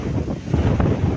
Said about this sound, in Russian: Ветрище.